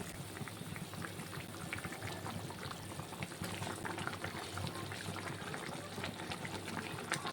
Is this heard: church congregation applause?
no